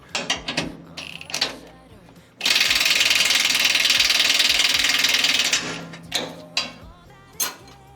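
Close, loud ratchet wrench cranking on bolts of a 13.5 HP Briggs mini excavator: a few sharp clicks, then a steady three-second run of rapid ratcheting, then more scattered clicks.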